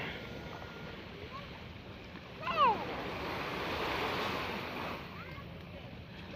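Waves wash steadily onto Khaleej Salman Beach in Jeddah at sunset, a soft continuous surf mixed with wind noise on the microphone, and a brief high voice rises over it midway.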